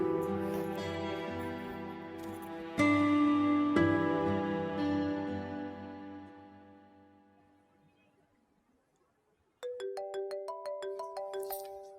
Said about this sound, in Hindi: अरे आंटी का फोन है।